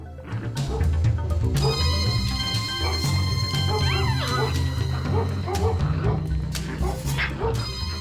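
Several Labrador dogs yipping and whimpering in short bursts over a busy, echoing background, with voices mixed in.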